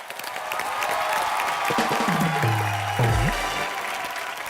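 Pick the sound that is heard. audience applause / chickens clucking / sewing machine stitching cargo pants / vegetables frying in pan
audience applause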